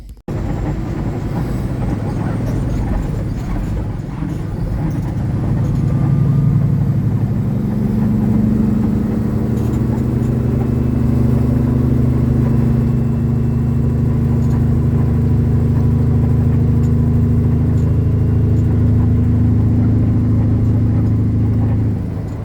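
Heavy trucks pulling out of a busy lot, a loud, sustained low engine drone that builds and holds with deep rumbling tones, heard from close by.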